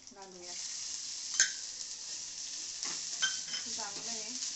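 Ridge gourd peels sauté with garlic and green chili in a pan over a low flame, a soft continuous sizzle broken by a few sharp clinks and scrapes of a stirring spoon, with brief wisps of voice.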